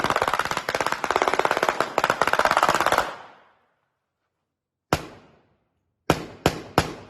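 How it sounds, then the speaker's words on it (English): Rapid bursts of practical on-set pyrotechnic gunfire effects on a film set rattle for about three seconds, then after a pause come a single shot and a quick cluster of three sharp bangs. "This is what gunfire effects look like when they are done on set practically."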